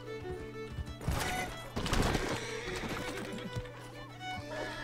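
A horse whinnies amid game sounds, with clip-clopping hooves and a busy backdrop of steady tones and scattered impacts.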